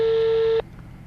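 A telephone ringing tone sounds on a call to a metal scrap dealer: a single steady electronic tone held for about half a second, then cut off to quiet line noise.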